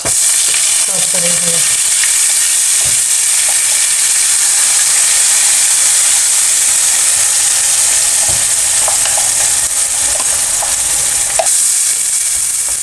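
Spice masala frying in hot oil with roasted cumin for a white chickpea curry, a steady loud broadband sizzle and hiss with occasional stirring clicks and scrapes throughout.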